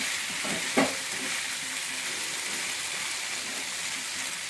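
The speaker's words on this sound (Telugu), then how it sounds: "ఈ వంకాయలను కూడా వేసేద్దాం. వేసి మంచిగా కలియపెట్టి" Cut eggplant pieces tipped into a hot pan and stirred, giving a steady close sizzle and frying hiss with a brief clatter as they go in.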